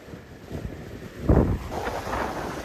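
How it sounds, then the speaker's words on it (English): Strong wind of about 25 knots buffets a sailboat running on bare poles at 5 knots, a gusting rush with water swishing against the hull, swelling to a loud surge midway. "It's a wild 20-mile sail coming in here, and we're on bare poles and doing 5 knots coming in here. It must be blowing 25."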